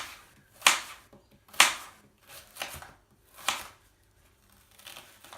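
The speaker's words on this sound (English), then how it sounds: "I'm going to chop up my onion." An onion being chopped into small cubes with a knife on a board for a Thai chicken curry: four or five sharp, separate crunchy cuts spaced about a second apart, close and crisp.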